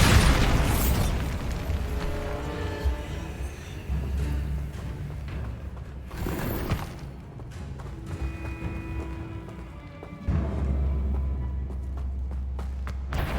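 A Bombarda spell blast in the Hogwarts Legacy video game gives a loud booming burst that rolls into a dense, sustained game soundscape with rumbling low end and later impacts.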